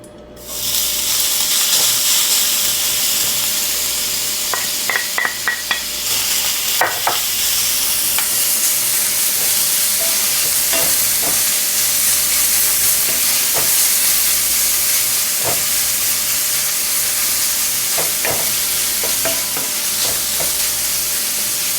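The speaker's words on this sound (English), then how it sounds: "I am going to stir fry this ginger until golden brown." Ginger stir-fries in a hot oiled pan with a steady, loud, close sizzle that runs the whole time, broken by occasional light clicks and scrapes of stirring and no voices.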